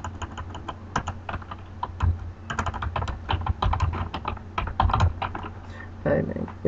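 Project description being typed on a computer keyboard, a steady run of quick, close key clicks in uneven bursts with brief pauses, no talking.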